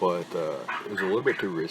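Small dog yipping and barking intermittently indoors, close by, heard under someone talking steadily about a game.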